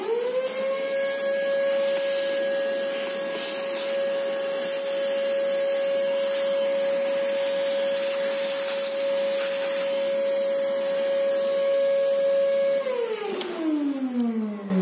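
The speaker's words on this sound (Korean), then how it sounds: "혹시 모르니까 청소기를 한 번 더 빨아줘요" A vacuum cleaner sucks coffee grounds out of the burrs of a Feima coffee grinder, running with a steady high whine for several seconds before winding down as it switches off.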